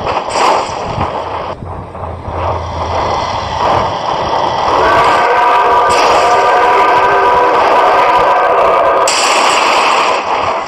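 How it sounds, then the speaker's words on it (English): A train rolls past a crash scene in the driving game BeamNG.drive, a loud, steady rumble with a sustained horn blast building through the middle and end, and no talk over it. "Oh my God, train!"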